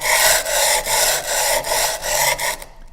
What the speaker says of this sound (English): work it back and forth on the sandpaper